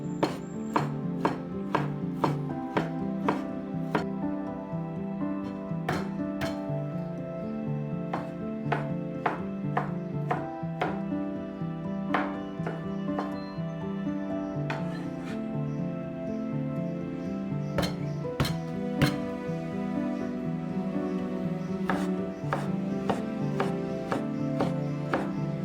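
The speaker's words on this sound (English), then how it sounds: "Slice the bamboo shoots thinly and into manageable pieces." A knife slices canned bamboo shoots into thin strips on a board, with a steady run of crisp, irregularly spaced cuts continuing throughout over soft background music.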